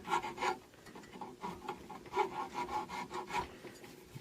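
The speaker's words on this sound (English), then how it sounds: "This rasp leaves little marks that I have to come back and sand out by hand" Fine sandpaper rubbed by hand over a carved wooden rocking horse, smoothing out rasp marks: a steady run of soft, rhythmic scratchy strokes, close and fairly quiet, with no talking.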